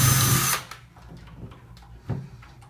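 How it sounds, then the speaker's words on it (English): Power drill backing out the screws of an old door knob, a loud brief whir that stops after about half a second, then faint clicks and handling knocks. "the next step is to unscrew those 2 screws that are right here"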